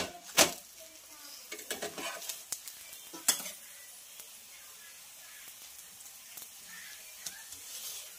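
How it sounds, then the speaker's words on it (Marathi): Aloo paratha roasting in a pan with a little oil, giving a quiet, steady sizzle with a few sharp clinks of a spatula or utensil against the pan near the start. "तुम्ही इथं बघू शकता, छानपैकी आपला पराठा भाजत आहे"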